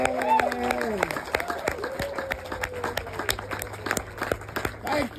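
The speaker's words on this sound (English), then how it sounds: "So let's give them a round of applause." An audience applauds at an outdoor reveal of an accessible patio for a Lions services organization, with scattered clapping continuing beneath a voice talking over it.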